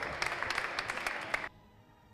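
Spectators at the Italian bouldering championship finals in Forlì give a moderate burst of clapping that stops abruptly partway through and leaves near silence.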